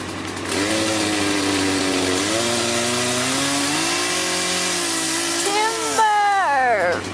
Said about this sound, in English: First chainsaw.